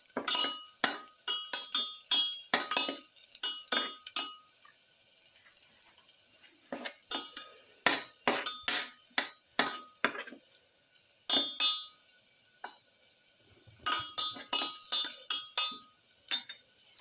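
Lamb and winter melon stirred in a pan, a spatula clanking and scraping against the metal in quick bursts of rhythmic strokes, separated by short quiet pauses, close and clear.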